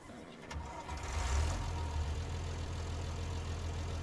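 A Versatile 855 tractor engine in Farming Simulator 19 cranks and catches, then settles into a low, steady idle rumble, fairly quiet and heard alone.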